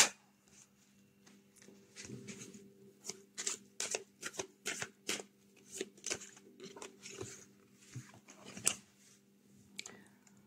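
Tarot cards shuffled by hand in a quiet room, a close series of crisp, irregular riffling snaps and rustles that come in quick bursts, with a faint steady hum beneath and no talking.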